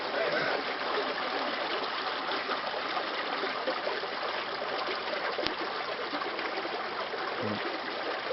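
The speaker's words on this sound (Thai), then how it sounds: "ตอนนี้นะบอมเขากำลัง ถ่ายภาพ น้ำไหลโดยเขาใส่ ND เข้าไปขาตั้งกล้อง เพื่อจะได้เป็นภาพที่ สมูท ของน้ำนะครับ" Steady rushing of Mekong River water tumbling over rocky rapids in the middle of the river, a constant broadband wash heard up close with no pauses.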